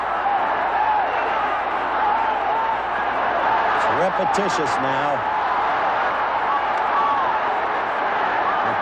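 Boxing arena crowd roaring steadily through an Ali heavyweight fight against Joe, loud and continuous, with a commentator talking over the dense noise.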